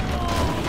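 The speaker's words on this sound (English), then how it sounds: "Look at the fireworks." Fireworks going off in the Left 4 Dead 2 video game, a dense run of booms and crackling bursts that stays loud and continuous through the short span.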